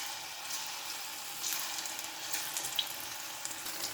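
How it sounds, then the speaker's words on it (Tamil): Battered pieces fry steadily in medium-hot oil, a soft continuous sizzle with faint crackles throughout, close and moderately quiet, with no voices. "வாங்க இப்போ எண்ணெயில் பொரிச்சிடலாம்."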